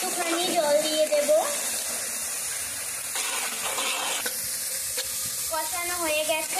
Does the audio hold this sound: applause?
no